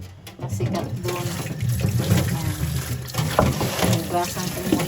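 Running water pours steadily from a tap over a piece of petrified wood from a beach near the sea, a continuous close splashing and rushing wash lasting throughout with no pauses.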